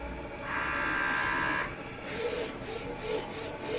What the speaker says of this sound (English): then the printer starts to print the picture